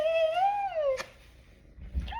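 A young kitten, about four months old, lets out a single clear, rising-and-falling meow up close, then goes quiet apart from a faint soft bump.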